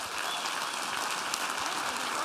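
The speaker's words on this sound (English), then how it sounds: "I think that deserves a round of applause." Applause from a crowd at a charity dance gala at a school event, a continuous, even patter of many hands clapping at moderate volume, with no voices over it.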